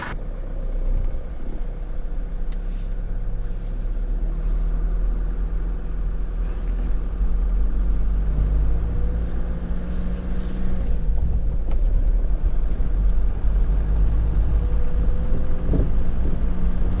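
A car's engine runs steadily during a drive, with a constant low rumble and shifting engine tones held throughout, and no talking.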